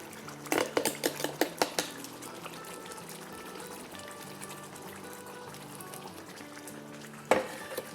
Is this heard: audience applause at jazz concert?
no